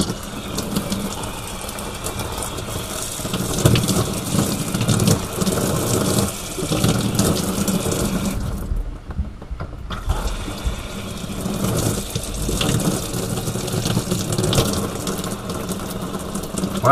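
Water sprays steadily through an Oxygenics shower head newly fitted in an RV, a loud continuous hiss with one brief pause midway before the flow resumes.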